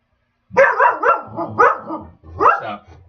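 A pet dog barks repeatedly at close range in an indoor home setting, several loud, harmonic barks in an uneven rhythm with brief pauses between bursts.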